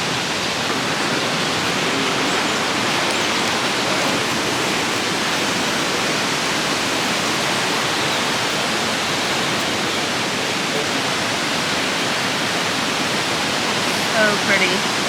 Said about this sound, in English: Another really pretty waterfall up there